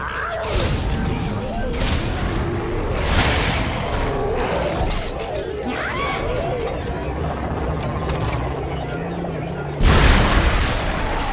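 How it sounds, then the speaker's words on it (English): Heavy booming blasts and crashing bursts erupt repeatedly over a dense rumbling backdrop in Dead Space 2, with a loud burst near the end and a voice speaking at times. "Big explosion."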